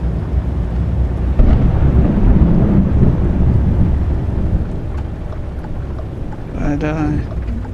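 A thunderstorm in American Truck Simulator near New Orleans, with steady heavy rain and a low, broad rumble of thunder filling the whole stretch, loud and close, while someone talks over it.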